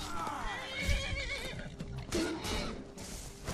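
A horse in the Skyrim video game lets out a whinny amid the clatter of combat and hooves, moderately faint with mixed game sounds around it.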